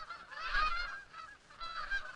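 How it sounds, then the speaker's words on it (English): A flock of Canada geese honking, soft overlapping calls in two short bursts, faint and somewhat distant. "Here comes a flock of Canada geese."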